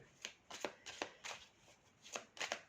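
Cards are shuffled and drawn from a deck during a card reading, making a series of quick, soft snapping and riffling flicks in uneven bursts, close by and fairly faint against a quiet room.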